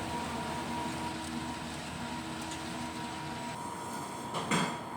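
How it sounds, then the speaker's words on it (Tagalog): An inkjet printer's wiper cleans the print head after a head-cleaning cycle, giving a steady mechanical whir and hum with a brief louder scrape or shift near the end. "Punasan ng wiper pagkatapos ng head clean."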